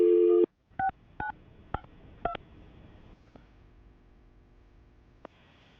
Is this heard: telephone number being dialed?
yes